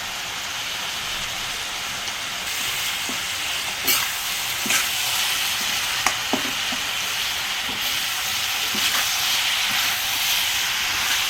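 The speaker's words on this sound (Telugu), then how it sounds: "ఉల్లిపాయ ముక్కలకు పట్టేటట్టు మంచిగా కలుపుకుందాం" Chopped onion pieces frying in oil are stirred together with turmeric, a loud continuous hiss and sizzle running throughout, with occasional scrapes and taps from a spoon moving through the pan.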